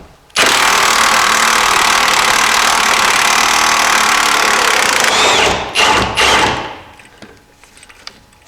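A power tool buzzes loudly and continuously for about five seconds on rusty 18 mm bolts threaded into a vehicle frame, then stutters through a few short bursts before stopping.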